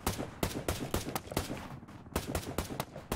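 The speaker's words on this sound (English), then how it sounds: "I was shooting a different guy at the rock" Rapid gunfire in the battle-royale shooter Ring of Elysium, with sharp close shots in irregular bursts and single cracks, brief pauses between volleys.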